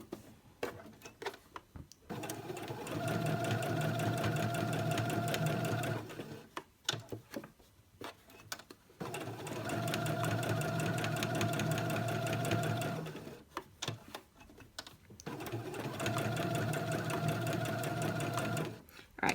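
A sewing machine stitches a marble maze quilt in three long continuous runs of steady, fast mechanical whirring, each followed by a short pause with light handling clatter.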